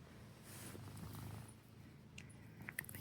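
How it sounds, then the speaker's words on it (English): A pet cat purrs close by in a quiet home, a soft steady low rumble running through the whole stretch with a few faint clicks and rustles near the end. "You're purring."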